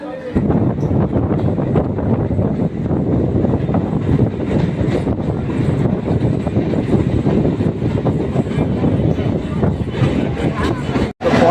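A Naihati to Sealdah local train rumbles along at speed, a loud continuous roar of wheels and carriage noise with wind buffeting, briefly cutting out near the end.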